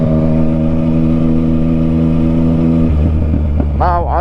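A motorcycle engine drones loud and close at a steady pitch, then revs sharply upward in quick bursts near the end, with a voice faintly underneath.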